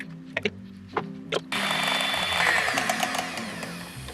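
Electric mixer whipping orange cake batter at full speed, a steady loud whirring drone that starts abruptly after a few short knocks and runs continuously to the end.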